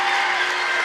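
A crowd cheers loudly at a boys' varsity basketball game, a dense, continuous roar of shouts and clapping filling the whole short moment with no gaps.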